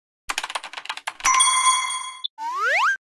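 A two-tone electronic chime rings out after a quick flurry of clicking taps, the first tone sustained and the second rising, clear and close.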